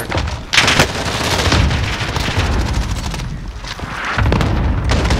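Cluster grenade explosions in a first-person shooter match, a loud continuous barrage of booms and blasts that stacks up across the whole stretch, with heavier bursts near the start and end.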